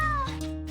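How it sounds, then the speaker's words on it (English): A cat gives a single short meow, loud and close, at the very end, after a steady humming tone, with no voices. "And that cat is a demon!"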